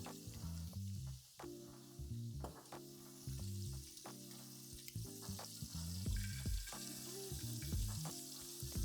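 Oxtail sears in oil in a pan, a close, steady sizzle with crackles and sharp spatters. Strong tonal music runs beneath it.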